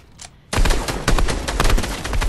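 Rapid automatic gunfire in Fortnite, a dense burst of close, loud shots in quick succession that starts abruptly after a brief quiet and keeps going.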